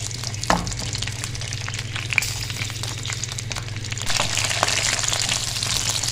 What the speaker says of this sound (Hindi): हमारी मिर्चों को फ्राई होते हुए 2 से 3 मिनट हो चुके हैं